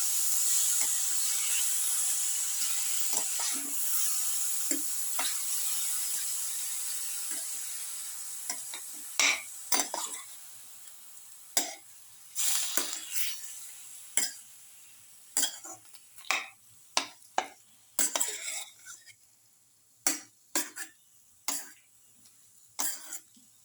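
Pepper lemon chicken stir fry sizzles steadily in a pan while being stirred, with repeated sharp scraping strokes of the utensil standing out clearly over the frying hiss.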